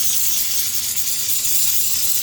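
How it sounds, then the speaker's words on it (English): Steam jet blasting dirt off a pair of Nike SB skate shoes, a steady close hiss running unbroken throughout with no voices. "I'm gonna go in and try to blast through some of that stuff with steam."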